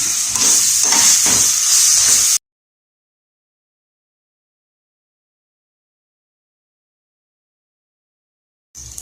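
Ginger, garlic and onion stirred in a pan for cauliflower sabji, a loud hissing sizzle with rhythmic scraping for about two seconds, then silence until a brief return at the end.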